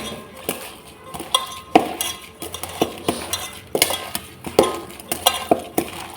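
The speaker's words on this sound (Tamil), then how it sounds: "இப்போ எல்லாத்தையும் போட்டு நம்ம நல்லா மிக்ஸ் பண்ணிட்டு வந்துடலாம்" Ground lentil mixture for dumplings being stirred in a bowl, with repeated clinks and scrapes of utensil against the dish in an uneven rhythm, close and clear with no talk.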